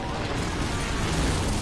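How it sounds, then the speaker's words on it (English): Precision airstrike explosion in a Call of Duty match, a loud, dense roaring blast rumbling through the full short stretch, heard close with a voice talking over it. "Precision airstrike incoming."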